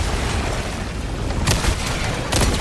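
Orbital gas strike in Helldivers 2 going off over bug holes, two sharp booming blasts with broadband bursts breaking through a steady noisy din of battle.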